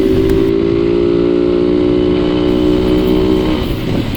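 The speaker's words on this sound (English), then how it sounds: "Listen to that motor, all that muscle." A deep, steady four-stroke engine rumble from an Xpro Storm 150 DLX motorcycle holds a constant throbbing tone, loud and close, running without a break and easing slightly near the end.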